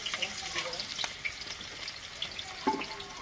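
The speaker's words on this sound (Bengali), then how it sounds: "পেঁয়াজ কুচি দিয়ে দিলাম" Chopped onion sizzles in hot oil in a large cooking pot for khichuri made with goat fat, a steady crackling fry with sharp pops throughout, close and alone.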